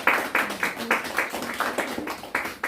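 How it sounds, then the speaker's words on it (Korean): A church congregation claps for an elder during a Sunday service, with moderate, fairly rhythmic hand claps repeating throughout at medium volume. "우리 황호정 권사님 위해서 박수 한번 해주시기 바랍니다"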